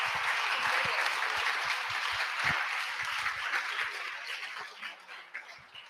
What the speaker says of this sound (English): give a big round of applause to all of our presenters today